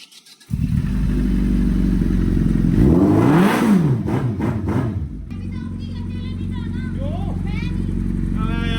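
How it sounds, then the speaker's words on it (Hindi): A Suzuki Hayabusa motorcycle cranks briefly and fires up, then revs loudly to a peak before settling into a steady, throbbing idle close by, with a voice talking over the running engine. "अभी अपनी हायाबुसा रेडी हो गई, इसको स्टार्ट करते हैं।"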